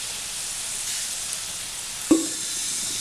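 Chili powder and turmeric powder added to hot oil for an instant mango pickle, giving a steady soft sizzle with one brief louder clatter partway through, with no talk.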